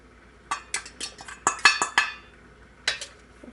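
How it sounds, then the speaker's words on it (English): A pot of onions, fenugreek and turmeric for potato coconut curry being stirred, with a series of sharp metallic clinks and scrapes of a utensil against the pot, in quick bunches with short pauses. "I'm giving that a stir"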